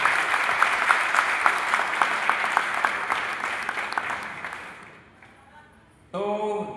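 An audience at a training session in Varanasi claps loudly and steadily for several seconds, the applause then fading to near silence before a brief burst of sound returns at the end.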